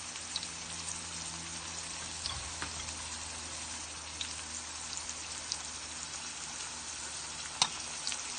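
Zucchini coated in seafood breading mix fries in hot oil, a soft, even crackling sizzle like light rain with scattered pops, heard close and steady.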